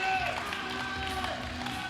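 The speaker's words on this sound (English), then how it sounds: "the crowd is going absolutely crazy" A crowd at an equipped powerlifting world championship roars and cheers steadily, a dense wash of voices with a commentator talking over it.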